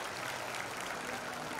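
A short burst of steady crowd clapping for the event organiser at a Jaya Kishori programme in a hotel hall, fairly soft and uniform throughout.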